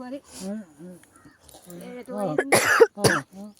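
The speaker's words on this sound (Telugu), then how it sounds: "దగ్గు కూడా లేస్తుంది" Someone speaks, then coughs a few times near the end, close and loud, before talking again, with a sore throat, outdoors in a forest.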